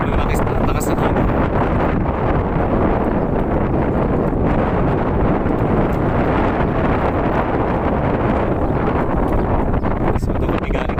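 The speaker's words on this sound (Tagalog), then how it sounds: "Sobrang lakas na hangin." Strong wind buffets the microphone at sea off Palawan, a steady loud roar of gusts and rumble running through the whole stretch, with a voice speaking over it.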